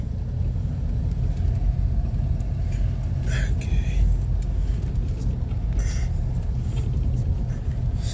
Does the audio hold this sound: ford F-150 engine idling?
yes